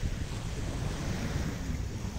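Large ocean waves roll onto a beach at high tide in a continuous broadband wash, with steady surf roar and some wind buffeting the microphone.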